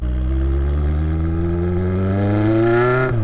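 A Kawasaki Z1000 motorcycle with an aftermarket MIVV Double Gun exhaust, deep and loud, revs steadily upward in pitch, droning close by, then abruptly drops off at the end.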